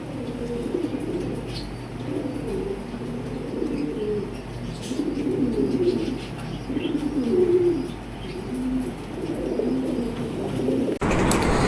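Pigeons coo in repeated low, rolling phrases throughout, close by, with faint chirps and a light wing flutter near the end; the birds include a large Golla male in a loft of pairs, one hen already sitting to lay eggs.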